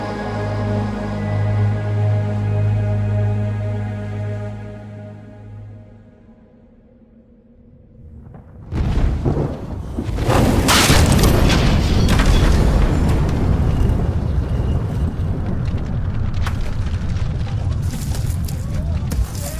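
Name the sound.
earthquake rumble sound effect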